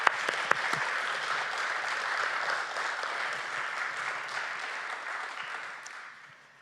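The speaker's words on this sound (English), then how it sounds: "So I'm going to give these ladies a round of applause." A club meeting audience gives a round of applause, a steady wash of clapping from a small crowd that holds, then fades out toward the end.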